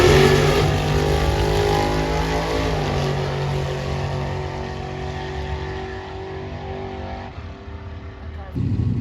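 A white Ford Fox Body drag car sits on the line for a test-and-tune pass, its engine droning loudly and steadily with a pitch that shifts partway through, before a brief louder burst at the very end.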